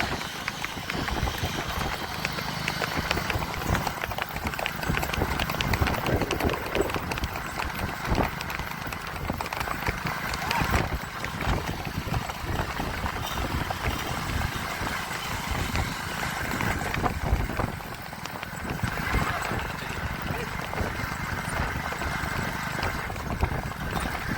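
Racehorses galloping in a Kutch horse race at Vondh, a dense continuous rumble of many hooves with crowd or engine noise mixed in, steady and fairly loud throughout.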